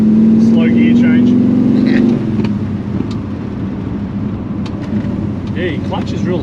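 A 1971 Ford XW GT Falcon engine revving and dropping through a slow gear change. A loud rising drone cuts off, then settles into a lower rumble while people talk inside the car.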